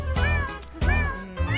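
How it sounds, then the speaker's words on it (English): A cartoon cat meows three times in a children's farm song about a farmer's cat, each meow bright, close and clear, evenly spaced over a soft musical backing. "There was a farmer who had a cat, and Bingo was her name"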